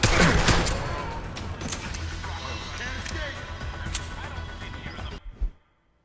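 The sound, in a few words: gunshots in the video game Deus Ex Human Revolution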